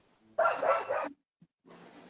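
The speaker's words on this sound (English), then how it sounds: "Man, them dogs are going wild." A dog barking in a burst of loud, close yips and barks, then a brief pause before a fainter, rougher noise follows.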